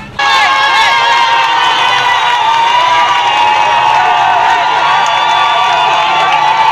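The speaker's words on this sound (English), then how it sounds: "the crowd went more rowdy and persons whispering from ear to ear" A rowdy crowd gathered outdoors sends up a dense, loud wall of shouting and cheering that holds steady for several seconds, with no single voice standing out.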